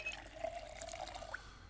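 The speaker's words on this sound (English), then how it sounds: "Can we fill up our empty pop bottle? Yep. Fill up the water bottle." Water runs into an empty pop bottle in Project Zomboid, a short faint gurgling pour that rises slightly in pitch as the bottle fills.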